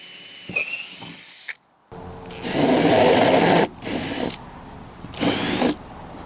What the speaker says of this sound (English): We're going to go ahead and drill 27 64-inch holes where the mount's going to go